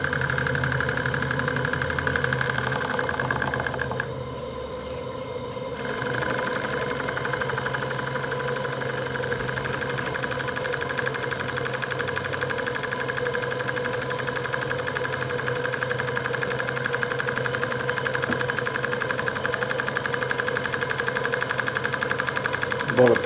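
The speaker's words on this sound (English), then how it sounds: "I just changed the engine into the reverse direction and let it run that way for a short time" A small steam engine runs steadily in reverse with a continuous mechanical hum and rhythmic ticking at close range, a brief dip in the middle, running on without talk.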